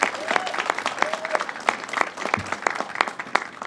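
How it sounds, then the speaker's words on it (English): Audience applause at a government press event on the fentanyl crisis, a moderate burst of many hands clapping with individual claps standing out, brief and fairly close, with faint voices underneath. "Let's give them a round of applause."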